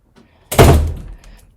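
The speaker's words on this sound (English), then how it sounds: "Okay, close my door." A bedroom door swings shut with a single solid thunk, close and clear in an otherwise quiet room.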